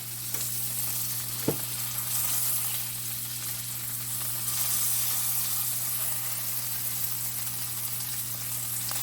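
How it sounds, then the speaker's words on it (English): A ribeye steak with a fat ring sears in a pan indoors, a steady, moderately loud sizzle with one sharp knock early on, continuing evenly without speech. "Just want to get seared a little bit so the juices try not to leak out the side."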